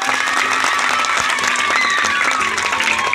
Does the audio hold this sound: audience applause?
yes